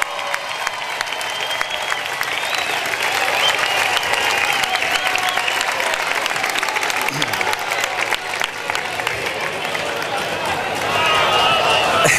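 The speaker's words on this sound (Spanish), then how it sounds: "un fuerte aplauso a Asier Garitano" A crowd in Leganés applauds steadily at the opening of the town's 2016 festivities, with dense continuous clapping and some cheering that swells slightly toward the end. Voices are mixed into the noise.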